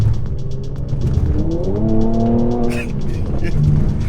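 Mercedes-Benz C43 car driving downhill through corners, engine note rising and easing under steady road roar, with people talking inside the cabin over it.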